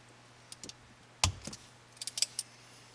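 A sharp snip as a zip tie's excess tail is cut off during a shifter boot install on a 2015 Ford Mustang, a single loud click followed by a few lighter clicks and small handling sounds in a quiet room.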